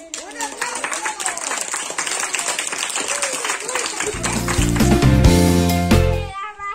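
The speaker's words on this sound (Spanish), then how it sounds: "para que nos den ¡Un aplauso!" A small group claps at a poetry storytelling session, quick light applause under a speaking voice, then a loud, sustained tone and bright music take over near the end.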